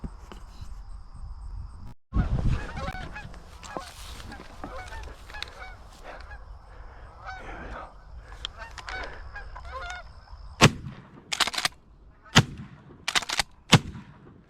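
Geese honk continuously in a noisy flock during goose hunting season, and several loud sharp shotgun blasts ring out near the end.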